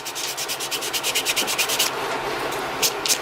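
Sandpaper rubs back and forth over a filled spot on an E-11 blaster prop, a rapid, even rhythm of close, raspy strokes that slows to a few separate swipes near the end.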